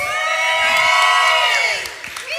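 A large audience cheers and whoops loudly at a morning motivational event, a sustained roar of voices that swells, then eases off near the end.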